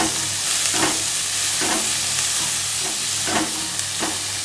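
Prawns frying in a pan with only a little oil, a steady close sizzle with bursts of crackle as they are stirred, no talking over it.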